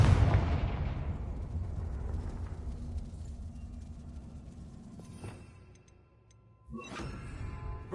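A Confringo blasting spell explodes in Hogwarts Legacy, a loud boom at the start decaying into a long rumbling tail. Two sharper cracks follow later, the second after a brief near-silent gap.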